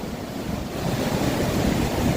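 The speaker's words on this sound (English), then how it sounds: "I love the sounds, the waves." Rushing white-water rapids at the Whitewater Walk, flowing downstream past the falls, make a loud, continuous roar of churning water with some wind buffeting, and no voices.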